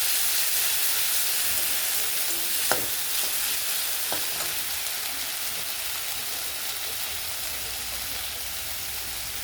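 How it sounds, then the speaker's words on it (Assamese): Spices fry in a hot pan for a fish and tomato curry while a spatula stirs them, a loud continuous sizzle with a couple of faint scrapes. "আৰু মই মছলাখিনি এড কৰাৰ পিছত অলপ খুন্তিৰে লাৰি দিছোঁ।"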